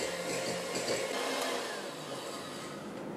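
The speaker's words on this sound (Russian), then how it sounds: "Масло комнатной температуры собью в течение 5 минут." An electric mixer whips room-temperature butter for a Paris-Brest cake filling, giving a steady, even motor whir that runs continuously without pauses.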